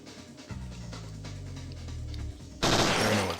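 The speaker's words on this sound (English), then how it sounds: "R1 fires a 3-round burst for this gun." Three-round burst from a gun in the video game Parasite Eve 2, a sharp, loud crack of shots cutting in at the end after a low sustained droning tone.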